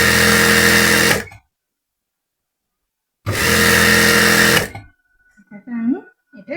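An electric sewing machine stitches a salwar in two loud, steady whirring runs separated by silence, with someone speaking softly after the second run.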